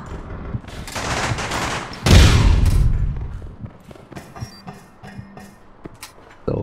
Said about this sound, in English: I actually killed them with hip firing bursts off of this thing.